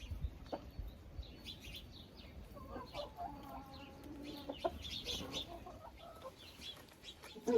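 Chickens cluck and murmur softly inside a henhouse as a rooster walks in, with scattered calls over a low, busy background, fairly close but not loud.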